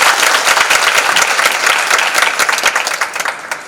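Dense applause from an audience at a women's temple gathering, a rapid patter of many hands clapping at once. It holds strong, then thins and fades toward the end.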